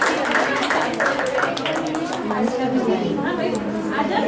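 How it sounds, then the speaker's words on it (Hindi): Audience applauding at a children's essay competition prize ceremony in Nagda, steady dense clapping filling the whole stretch with crowd chatter and speech mixed underneath. "ताली बजाए जोर से।"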